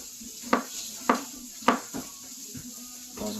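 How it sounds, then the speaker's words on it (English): Mushrooms tossed in a frying pan with a steak, giving three sharp metallic clatters about half a second apart, then softer knocks over a faint sizzle, close and fairly quiet. "just give the pan a slight toss"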